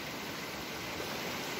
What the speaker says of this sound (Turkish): İşte akan bu çay, dere, doğru Beyşehir Gölü'ne akıyor.